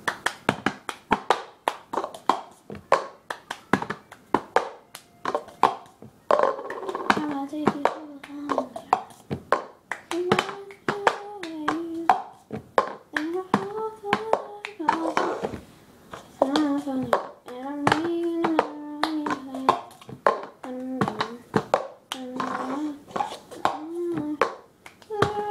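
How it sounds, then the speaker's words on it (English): Cup song rhythm from Pitch Perfect, with hands tapping and clapping plastic cups on a table in a steady looping pattern, close and clear, while a person sings along over the beat. "I'm going to show you how to do the cup song from Pitch Perfect"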